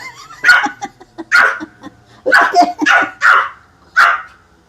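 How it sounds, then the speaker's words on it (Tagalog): A small dog barks repeatedly at its owner in sharp, close yaps, about seven in quick uneven bursts with short gaps, loud against an otherwise quiet room. "Ayan, tahol ng tahol sa nanay niya."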